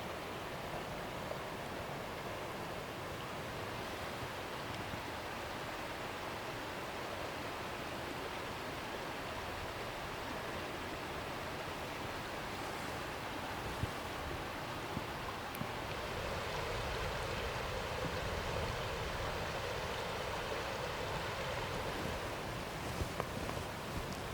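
Steady broadband rush of creek water flowing outdoors during a late-season deer hunt on Pennsylvania public land, continuous and even throughout with no talk.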